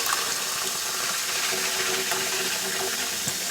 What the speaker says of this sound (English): Getting that water clearing up.